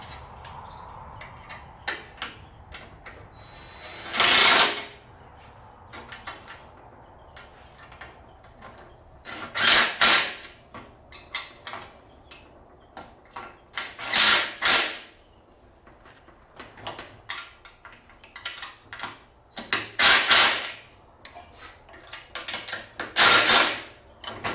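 A wrench tightens the bolts that mount a vise to a steel welding table. Five loud ratcheting bursts come at roughly five-second intervals, with quieter metallic clicks and scrapes between them, close by and with no talking.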